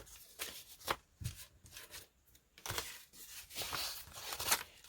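Hands rummage through paper scraps, old envelopes, old letters and book pages, giving close, irregular rustling and crinkling bursts with short pauses between handfuls.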